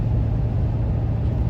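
A truck hauling an RV cruises down the road, a steady low engine and road rumble droning close and loud throughout with no talk.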